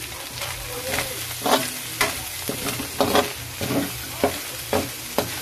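Onion and garlic fry in a pan for a sitaw and Baguio pechay dish with ground meat, a loud close sizzle broken by regular scraping stirs about every half second.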